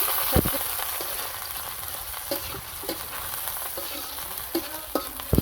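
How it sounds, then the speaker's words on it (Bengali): Red spinach leaves frying in hot oil with chopped onion, onion greens and garlic, a steady close sizzle broken by regular scrapes and taps of a spatula stirring the pan. "এখন ভাজি করুন লাল শাক তেলটা দিয়ে দিই"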